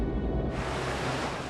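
Open ocean waves in the middle of the Pacific, a broad continuous rush of surf and wind noise that swells and fills the whole clip, loud and close with no voices.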